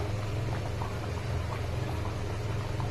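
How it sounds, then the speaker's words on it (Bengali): Low, steady bubbling of a thick mutton curry simmering in a pot, a continuous rumbling burble with faint occasional pops. "দেওয়ার পরে ঝোলটা এই যে ফুটছে"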